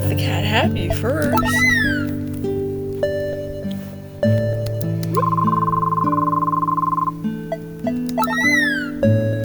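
Cartoonish cat meows from the video game Goodnight Meowmie repeat over a bright synthesized melody with sustained tones, loud and up front, with no talking.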